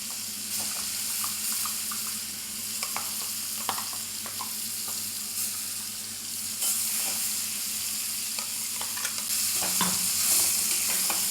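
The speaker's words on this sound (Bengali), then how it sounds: "এবার মোচাটাকে আমি একটু সাঁতলে নেব" Ground banana flower paste frying in mustard oil, a continuous soft sizzle with intermittent scraping and stirring clicks from a spatula in the pan, close and steady with no talking.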